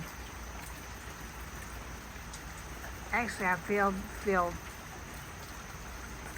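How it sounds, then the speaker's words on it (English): Steady rain hiss fills the background throughout, with a person speaking briefly partway through. "I feel blessed to have a place that I can sit and listen to it rain."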